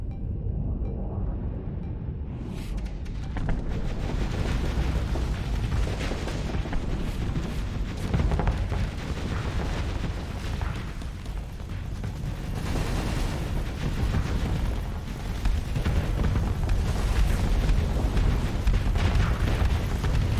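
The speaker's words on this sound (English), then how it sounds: "That's a rapid fire cannon." A rapid-fire cannon in the space combat game Starsector pounds out a dense, continuous stream of booming shots and impacts that stays loud for the whole twenty seconds.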